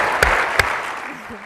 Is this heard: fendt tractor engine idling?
no